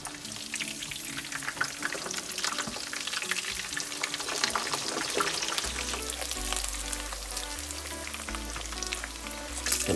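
Parmesan-breaded pork cutlets deep-frying in oil on an induction burner at maximum heat, a dense, loud crackling bubble that stays continuous, with a low hum entering partway through.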